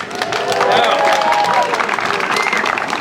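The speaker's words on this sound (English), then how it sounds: "Let's give her a warm round of applause, please." An audience at a community center event on Staten Island applauding and cheering for a speaker, dense close clapping with crowd whoops and voices mixed in throughout, loud and sustained.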